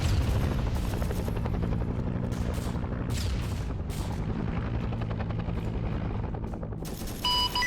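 Helicopters fly over a Vietnam-era multiplayer video game battlefield, their steady, loud rotor drone running throughout while bursts of machine-gun fire crackle on top.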